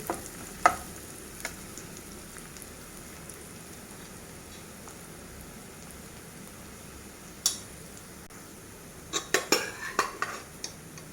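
A beetroot fry being stirred in a pan, with a steady soft sizzle underneath and scattered metallic scrapes and clinks of the spoon against the pan, close by, with no talking.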